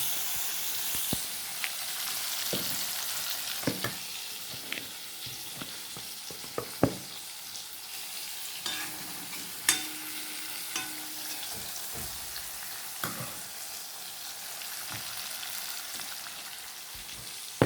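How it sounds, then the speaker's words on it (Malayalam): Masala-coated mackerel (ayala), rubbed with chilli powder, turmeric, salt, shallots and garlic, fries in a pan with a soft continuous sizzle and hiss, broken by scattered sharp pops and spatula taps, nothing spoken. "നല്ല അയിലയാണ് കിട്ടിയത്, അത് പൊരിച്ചെടുക്കണം"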